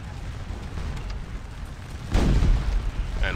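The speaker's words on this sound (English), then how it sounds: "we've got our artillery bombing away" A single deep artillery boom bursts out partway through, rolling over steady ambient battlefield rumble from a Napoleonic battle video game, with no voices.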